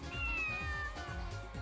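A cat gives a single drawn-out meow, clear and close, over a low, rhythmic background thumping.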